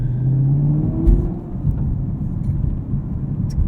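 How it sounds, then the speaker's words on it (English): A 2018 Chevrolet Camaro 2SS with a V8 engine and six-speed manual gearbox, a close, loud, throaty low engine rumble that holds steady and rises slightly as it revs, heard alone at night. "fun to drive, throaty muscle car"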